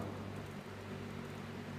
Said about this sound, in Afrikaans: Ons hoor die reën daar buite val